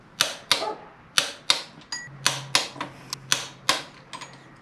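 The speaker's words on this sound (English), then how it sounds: "I need to torque down both of the power steering bolts to 28 foot-pounds" A torque wrench tightens the power steering bolts on a 454 engine to 28 foot-pounds, giving a run of sharp, close ratcheting clicks in uneven bursts, roughly a dozen in all, with no talk.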